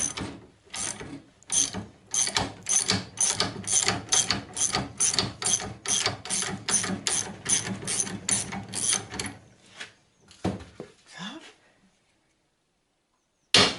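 A 29 mm wrench ratcheting on a front suspension ball joint, a long run of close, rhythmic metallic clicks that stops, followed by a couple of scattered clunks and then quiet.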